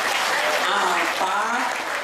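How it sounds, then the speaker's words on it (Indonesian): A crowd at a sholawat religious gathering in Hong Kong claps in a brief, steady burst, dense and continuous, with voices mixed in beneath it. "Tepuk tangan, tepuk tangan."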